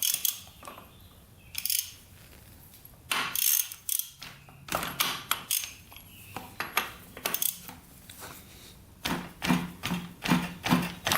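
Valve caps being worked off a Honda 400ex quad engine with hand tools: a run of close, irregular metallic clicks, ratchet-like ticks and clinks, some sharper and louder than others, with no talking.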